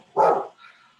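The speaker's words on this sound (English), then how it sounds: "Dogs bark." A dog gives one loud, close, sharp bark followed by a softer trailing yelp, all within about a second.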